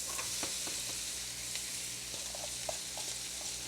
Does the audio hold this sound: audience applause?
no